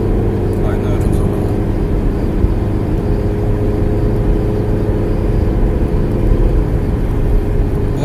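A 1998 Mazda Lantis engine pulls steadily, a continuous loud drone with road and wind noise that holds evenly for the whole stretch, with a voice faintly underneath.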